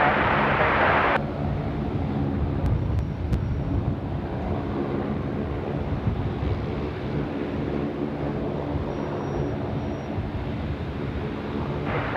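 An airliner makes a rolling takeoff from runway 34 right at Sydney Airport, a steady, broad engine roar and rumble that holds throughout, with a brief louder burst at the start and a few faint clicks.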